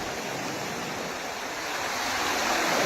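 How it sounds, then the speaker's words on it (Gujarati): Floodwater rushing along after a heavy overnight monsoon downpour, a steady broadband roar of flowing water that holds constant and swells slightly toward the end, with no voices. "આગળ કેટલું પાણી જાય છે હું તમને બતાવું"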